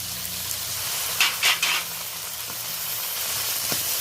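Ginger-garlic paste hits softened onion and tomato masala in a hot pan, a close, constant sizzle with a few brief scraping stirs partway through, and no voices.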